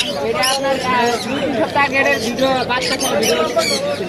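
Caged birds, including parrots, squawk and chirp in short bursts at a crowded bird market, mixed closely with people talking nearby.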